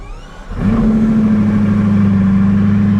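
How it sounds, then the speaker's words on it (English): A Bugatti Divo supercar engine fires up with a sharp catch after half a second, then settles into a loud, steady, deep idle that holds close and unbroken to the end. "And then, engine start."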